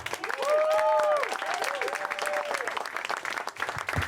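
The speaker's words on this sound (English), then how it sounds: "Please give a big round of applause for Jose Sardu." Steady applause from an audience fills the whole stretch, dense clapping with a few whoops or cheers rising above it.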